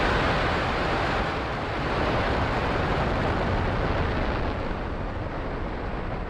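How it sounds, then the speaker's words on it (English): Falcon rocket engines roar at full power during a Starlink launch liftoff, a loud, steady, broadband rumble that fills the whole clip with no break. "Engines full power and liftoff of Starlink 437."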